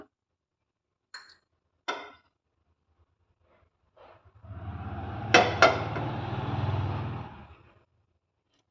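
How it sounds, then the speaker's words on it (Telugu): A pan goes onto a stove in a home kitchen. Two light metallic clinks come first, then sharp clanks as the pan settles, followed by a low sustained hiss and rumble from the burner. "ఇప్పుడు స్టవ్ ఆన్ చేసి ఒక ప్యాన్ పెట్టుకుంటున్నాను"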